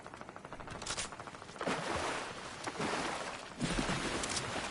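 Rapid gunfire in the Fortnite video game, bursts of automatic shots coming in waves at moderate volume with no talking.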